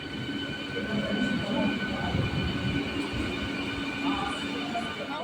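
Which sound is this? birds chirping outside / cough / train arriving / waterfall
train arriving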